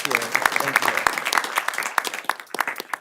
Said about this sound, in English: let's go ahead and give them another hand clap